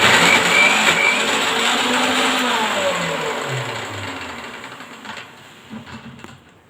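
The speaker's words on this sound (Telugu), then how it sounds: "మిక్సీ పడదాం" Mixer grinder whirring as it blends gongura (sorrel leaf) chutney, a loud steady motor drone that gradually slows and fades toward the end, heard alone without speech.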